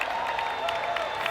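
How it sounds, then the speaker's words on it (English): Arena crowd at a combat-sports event applauding and cheering after a close fight, a steady broad wash of clapping with scattered louder bursts, continuous and fairly near. "All around us, people are on their feet, applauding, giving thumbs up."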